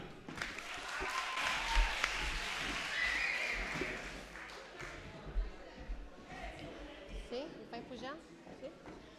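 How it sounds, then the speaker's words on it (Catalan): Applause from a school graduation ceremony audience, a broad sustained clatter of clapping that swells early and then thins out, with voices and scattered chatter mixed in. "Aplaudiu!"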